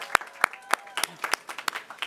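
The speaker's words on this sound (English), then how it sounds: "Please join me in a round of applause, even if he's not here." Scattered hand claps from a small audience at a university commencement ceremony, sharp and irregular, several separate claps rather than a full ovation.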